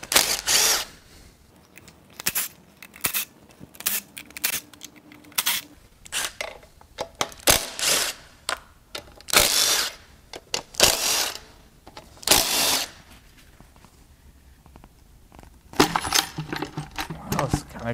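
Intake manifold being pulled off a blown-up Ford 5.0 Coyote V8 during a teardown: irregular sharp metallic clanks, taps and rattles of parts and tools in bursts, with faint talk.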